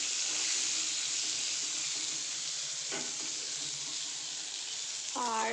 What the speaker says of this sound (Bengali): পটল ভাজছি